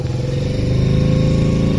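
A Yamaha Raptor quad's engine idles steadily in neutral, a close, loud, even mechanical thrum with a regular low pulse and no revving or speech.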